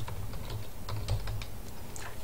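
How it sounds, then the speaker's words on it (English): Fingers typing a category name on a computer keyboard in a steady run of quick, light key clicks, close and fairly quiet with no speech. "We're going to type in the category name."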